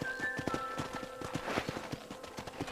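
A horse at a ranch in Red Dead Redemption walks with steady, evenly spaced clip-clop hoofbeats, close and fairly soft over a light ambient backdrop.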